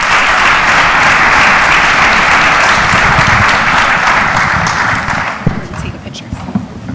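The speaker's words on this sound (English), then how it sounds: "So a big round of applause for Invest Miami." A conference audience at an Invest Miami event breaks into loud, sustained applause, dense clapping that fades over the last couple of seconds into scattered claps and room noise.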